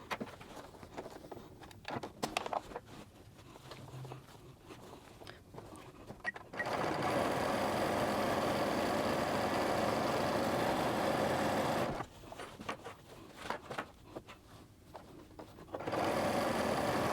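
A sewing machine topstitches shorts in two sustained runs of fast, even motor whirring, loud and close, separated by quieter intervals of fabric handling and clicks.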